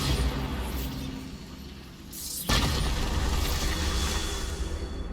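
A Bombarda explosion spell goes off in Hogwarts Legacy as one sharp, loud blast. It cuts through a steady background rumble and leaves a dense, sustained wash of noise afterward.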